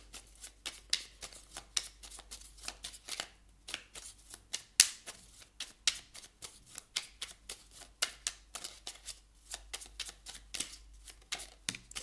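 A small deck of oracle cards is shuffled by hand, with rapid riffling bursts and soft flicks repeating in an irregular rhythm, close and fairly quiet, with no speech.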